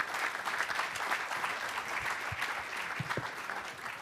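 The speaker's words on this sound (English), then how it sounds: "let's give all of our panelists a round of applause" Sustained audience applause for a panel of speakers at a student athlete summit, a steady wash of many hands clapping at moderate distance throughout, with no talk over it.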